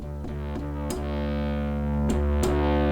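A bass guitar plays through a Ghost pedal's distortion, a sustained, buzzing overdriven tone with a few sharp plucked attacks, gradually swelling louder over a few seconds with no talking.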